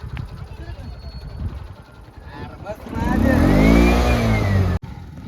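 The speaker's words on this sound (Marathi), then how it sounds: "ही रिक्षा टी व्ही एचची रिक्षा कशी चालत आहे बघा या रस्त्याने" A TVS auto rickshaw drives along a rough rural road, its small engine buzzing and then swelling into a loud, close revving surge while people talk over it.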